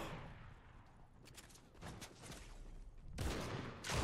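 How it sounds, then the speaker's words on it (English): Gunfire in the video game Fortnite comes as rapid bursts of shots, quiet overall, with louder volleys in the last second. "Oh, I'm getting shot at?"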